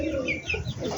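Chickens at a backyard coop clucking and cooing together in a brief, close burst of soft bird calls over low background noise.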